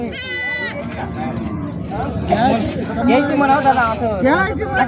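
Goats bleat loudly in a short burst near the start, followed by a busy mix of overlapping voices and more animal calls at a crowded goat market in Jawala.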